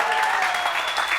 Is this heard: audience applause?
yes